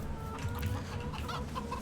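Chickens clucking in Farming Simulator 22, a steady run of close, soft clucks and brief higher calls over a low droning game background.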